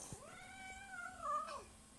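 A female cat being held lets out one long, drawn-out yowl that rises in pitch near the end, loud and close, with no talking over it.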